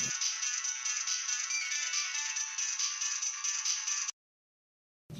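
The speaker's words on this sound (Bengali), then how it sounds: "একটা ফোন আসছে।" A phone ringtone plays continuously, bright and steady, for about four seconds, then stops, followed by a short silence.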